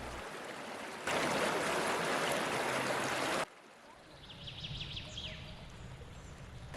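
Broadband rushing water of a river, loud and steady for a few seconds, then a softer flowing wash with faint birds chirping in the background.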